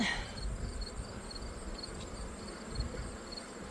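Honeybees roar in an opened hive during an inspection, a steady close buzzing drone with individual bees whining past, continuous and fairly loud.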